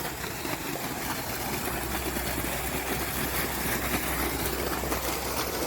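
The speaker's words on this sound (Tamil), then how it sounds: "இப்போ பாருங்கள் ஆன் பண்ணுறேன் மோட்டர் ஸ்டார்ட்" An electric water pump motor on a farm in Tamil Nadu, switched on remotely, runs with a steady, loud, even hum and vibration that holds unchanged for several seconds.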